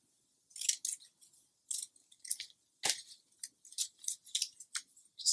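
Scissors snip through paper strips for a planner, with a quiet series of short, crisp cuts at an irregular rhythm, close up in an otherwise silent room.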